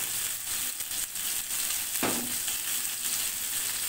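Hilsa fish pieces shallow-frying in an oiled pan, turned side to side for a light fry, giving a steady close hiss of sizzling oil with a few brief crackles and no talk.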